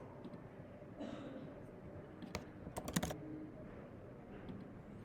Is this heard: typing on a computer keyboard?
yes